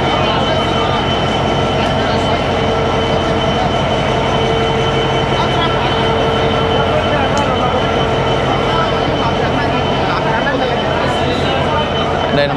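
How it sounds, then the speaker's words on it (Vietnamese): A train at a railway station in Cairo, Egypt, rumbles loudly and steadily throughout, a constant close mechanical drone with a person talking over it. "Đây là một đầu cái toa tàu đấy các bạn."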